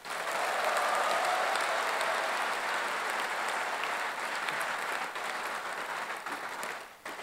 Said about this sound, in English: Let us have a huge round of applause for Dr.